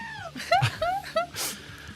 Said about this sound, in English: There's a goat that makes that noise.